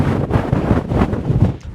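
Strong wind buffets the microphone on Castle Hill by Victoria Tower in Bradford, a loud, gusting roar that rises and falls throughout with no voices.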